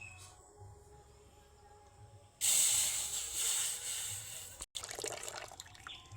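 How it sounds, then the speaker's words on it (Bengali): Banana juice for banana jaggery hits a hot wok with a sudden loud hiss that swells and then settles into a steady sizzle, briefly cut off once before it resumes. "কড়াইটা খুব বেশি গরম হওয়ার আগেই কলার রসটা কড়াইতে দিয়ে দেব"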